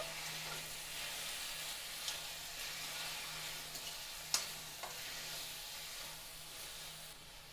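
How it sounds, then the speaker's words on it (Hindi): Chopped tomatoes fry with green chillies in a pan, giving a soft, steady sizzle and hiss with occasional clicks of stirring, fairly quiet and close. "हरी मिर्च को थोड़ा सा भूनने के बाद हम इसमें अपने कटे हुए टमाटर ऐड कर देंगे और अच्छे से मिक्स कर लेंगे"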